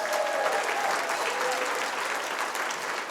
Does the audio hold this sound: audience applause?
yes